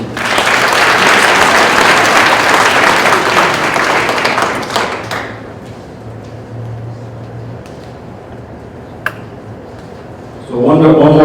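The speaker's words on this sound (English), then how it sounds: "So one more round of applause for our CBC honorable mention." Loud, dense applause fills a room at a high school winter sports awards ceremony, then dies down to a quiet murmur before a voice begins speaking.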